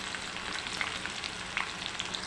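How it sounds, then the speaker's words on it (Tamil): Dried red chillies and onion crackle in hot oil for a sambar tempering, a soft continuous sizzle with scattered tiny pops. "காஞ்ச மிளகாய் இதில் கொஞ்சோண்டு வெங்காயம் போட்டுக்கலாம்"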